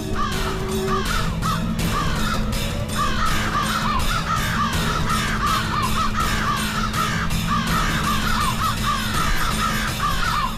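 A flock of crows caws loudly and repeatedly over a dense, continuous background, with overlapping harsh calls coming in rapid bursts throughout.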